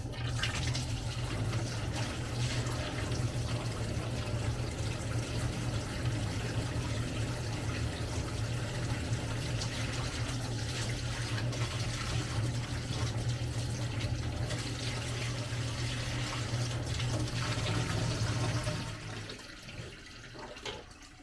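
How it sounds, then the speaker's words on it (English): A homemade vapor blaster's pump runs with water flowing, a steady low hum under continuous rushing water for about eighteen seconds before it drops off. "Now I should be able to hit this switch over here and turn the pump on."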